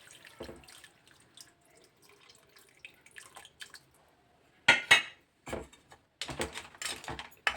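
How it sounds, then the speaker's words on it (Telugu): Tamarind pulp water is poured into a pot of crab curry, heard as a few short close splashes and drips with faint clinks in between, no talking. "ఇప్పుడు చింతపండు పోసుకుందాము."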